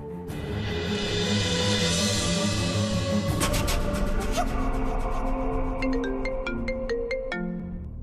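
A phone ringtone plays continuously, a bright electronic melody that shifts partway through into rapid repeating beeps, loud and close with no talking.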